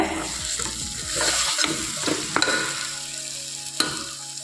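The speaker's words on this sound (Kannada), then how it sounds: "ಇವಾಗ ಮಸಾಲೆ ಎಲ್ಲ ಫ್ರೈ ಆಗಿದೆ ಸೈಡಲ್ಲೆಲ್ಲ ಎಣ್ಣೆ ಬಿಟ್ಕೊಂಡೈತೆ" A thick spice paste for a pigeon pea gravy sizzles and sputters in hot oil, with a few scrapes of a spoon against the pan and no talking.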